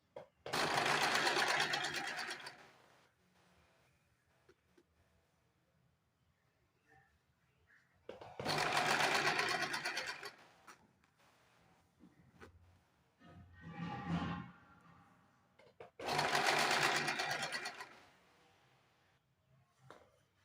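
A sewing machine stitches a blouse sleeve in three separate bursts of fast, loud, even whirring, each a couple of seconds long, with quiet pauses between and a brief softer rustle in one gap.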